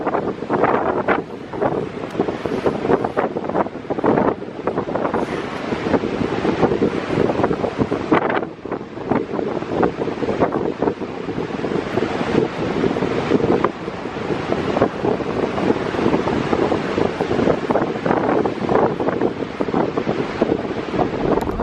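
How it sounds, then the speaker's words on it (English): Strong wind roars steadily across the microphone while waves crash and surge continuously against a tram nearby, loud and unbroken with no voices. "The waves just crashing against the tram."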